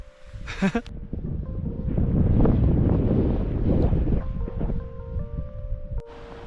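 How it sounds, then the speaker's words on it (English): Wind gusts buffet the microphone on a high-altitude solo trek to the Parang La pass between Spiti and Tso Moriri, a steady rushing roar that swells and eases, opening with a brief close rustle. "Hiding from the wind"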